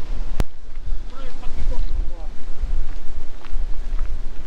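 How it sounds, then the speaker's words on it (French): Gusty wind buffets the microphone in an open farm field during bean sowing, rumbling loudly in uneven surges, with faint voices and a short click near the start. "Il y a du vent."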